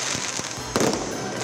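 Fireworks for the lighting of Magical Christmas at the Capitol Grounds go off in a grand display: a few sharp pops crackle early, then one loud burst hits midway and fades into a lingering rumble.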